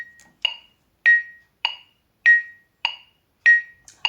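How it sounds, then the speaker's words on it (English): Metronome clicking steadily at 100 beats per minute in two-beat bars, accented clicks alternating with lighter ones, seven crisp ticks, close and alone. "I will put the metronome on"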